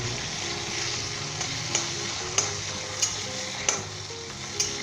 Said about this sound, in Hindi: अब हम इसके अंदर ये अपनी सब्ज़ मिर्चें शामिल कर देंगे और मिक्स कर लेंगे अच्छे तरीके के साथ